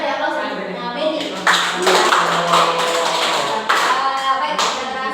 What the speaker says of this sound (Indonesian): Kita beri aplaus untuk Benny